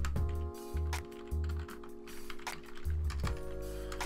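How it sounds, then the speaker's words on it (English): Quick clicking keystrokes on a computer keyboard as someone types a chat message during a Minecraft game, close and fairly soft, with steady game music and tones running underneath. "I've got to type this in the chat."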